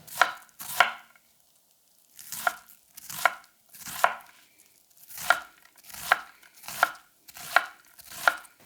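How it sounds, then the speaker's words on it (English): A Shibata Koutetsu Chromax Sujihiki knife slices an onion in about ten crisp, separate cuts. Each stroke is a close swishing cut ending in a light tap on the board, with short pauses between strokes. "The knife simply moves through the onion more freely."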